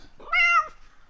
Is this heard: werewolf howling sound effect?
no